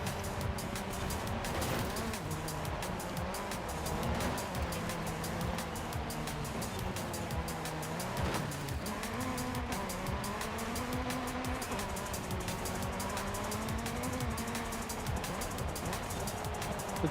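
Race car engine in Forza Horizon 5 during a winter series event, a continuous loud revving drone with rising and falling pitch as the car accelerates and shifts.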